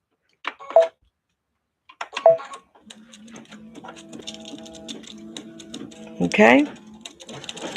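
An embroidery machine stitches out a design with rapid, fine ticking and a light mechanical whir, starting after a couple of brief sounds and running steadily, with a short spoken word near the start.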